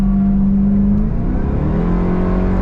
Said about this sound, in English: Those massive tires clawing at the asphalt.